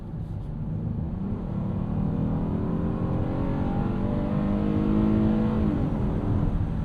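A 2026 Honda Odyssey minivan's 3.5L VTEC engine revving hard in sport mode, a loud, steady rising drone heard from inside the cabin, climbing through the gears with no talk over it.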